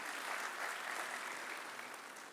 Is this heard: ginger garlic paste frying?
no